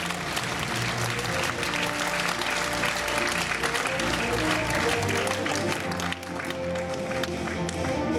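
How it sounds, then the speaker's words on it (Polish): Audience at a Zambrów town award ceremony giving loud, sustained applause, thick continuous clapping with steady energy throughout, accompanied by background music. "A państwa cały czas prosimy o gorące brawa."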